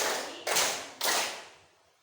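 Two sharp, loud hand claps half a second apart in a clapping-pattern exercise, each ringing out with room echo before fading to quiet.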